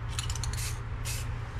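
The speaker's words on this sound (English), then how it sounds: "I'm gonna go ahead and spray down here and make sure that my tip isn't clogged up." Short test bursts from a spray can of Rust-Oleum acrylic lacquer gloss clear, two quick hissing puffs close by over a low steady background hum.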